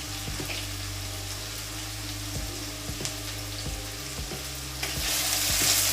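Onions fry with cumin seeds in a pan over a high gas flame, a steady close sizzle with occasional stirring knocks and scrapes, the frying growing louder toward the end.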